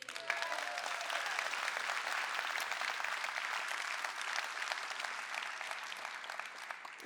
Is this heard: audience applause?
yes